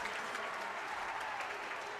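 Home crowd at an Indiana Hoosiers basketball game applauding, a steady, fairly distant wash of clapping and cheering from the arena.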